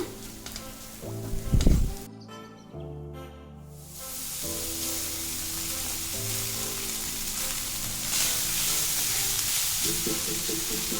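Cooked rice tipped into a frying onion mixture in a pan for onion rice, starting with a loud thump and rustle as it drops in, then a dense, continuous sizzle that carries on steadily at close range, with no voices.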